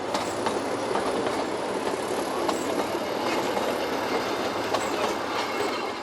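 A train on a Himalayan mountain railway rolls through a pine-covered gorge alongside a high range, its steady rumble and rhythmic clickety-clack running continuously at close, even loudness with no voices.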